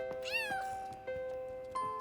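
A kitten in a French Caillou cartoon meows twice: a long, wavering cry, then a short meow near the end, heard close and clear over a faint background tone.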